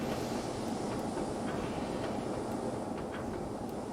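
Locomotives in the Trainz Plus game, on the Ducken Railway, power uphill toward Pride Park with a continuous broad rumble and rush of running rail noise, even and sustained throughout.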